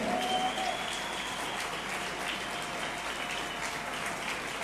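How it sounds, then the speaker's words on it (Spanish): A street protest crowd of hospitality, gym, travel and retail workers applauds themselves, a dense, continuous wash of clapping spread across a large outdoor gathering, steady and fairly distant with no talk over it. "¡Ese aplauso fuerte!"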